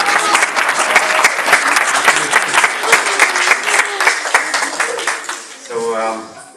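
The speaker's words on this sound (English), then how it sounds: "So big round of applause, please." An audience at a kirtan gathering claps in loud, sustained applause that fills the room, then fades as a voice begins speaking near the end.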